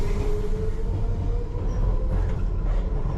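A London Underground Piccadilly line train runs eastbound from Rayners Lane toward Cockfosters, its steady low rumble and wheel-on-rail drone filling the carriage with a faint whining tone on top, continuous and fairly loud.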